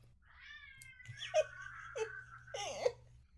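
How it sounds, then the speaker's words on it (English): A gigantic diabetic cat with a very large voice meowing insistently for dinner, three loud drawn-out yowls in a row, close and clear over a faint low hum. "diabetic cat who is gigantic and has also a very large voice"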